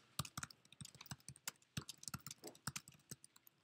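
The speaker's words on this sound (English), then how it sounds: "start typing words" Someone types on a computer keyboard in an irregular run of crisp, close key clicks and clacks, alone and without talk.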